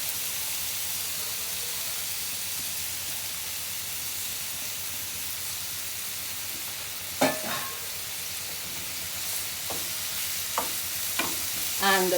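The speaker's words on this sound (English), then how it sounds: "I'll just go ahead and put in this ground beef" Seasoned ground beef going into a pan on medium heat for a ricotta beef lasagna, giving a steady, fairly quiet frying sizzle throughout, with a few sharper clinks and stirring scrapes near the end.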